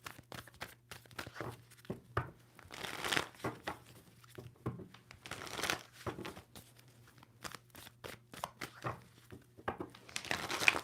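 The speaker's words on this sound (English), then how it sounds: "2 more shuffles." Tarot cards are shuffled close up in repeated bursts, crisp riffling and slapping sounds with short pauses between rounds, fairly quiet overall.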